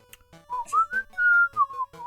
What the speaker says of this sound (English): I'll entertain you with some whistling